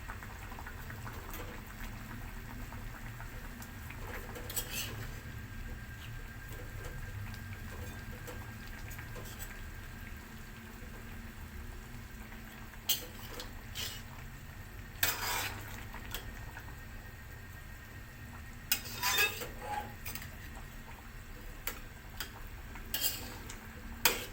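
Spiced fish being stirred in a pan just after soy sauce goes in, with soft scraping and occasional utensil clinks against the pan over a low, steady cooking hiss, no talk.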